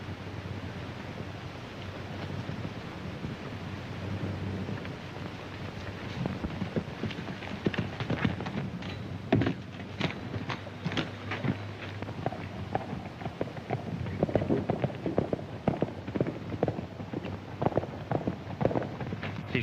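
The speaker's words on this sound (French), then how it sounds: "C'est le cheval de Dusty." Hoofbeats of a galloping horse in a Western film come in bursts over steady wind-like noise, growing busier and louder toward the end.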